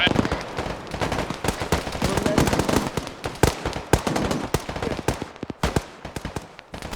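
Gunfire in the Arma 3 military video game, a dense rapid crackle of rifle and machine-gun shots in continuous bursts, loud and close, with voices talking under the firing.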